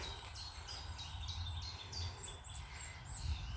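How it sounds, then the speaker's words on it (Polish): Birds sing in a mini botanical garden on a palace estate, a run of repeated high chirps and short whistled phrases at moderate distance over a low outdoor rumble. "Słychać ptaki."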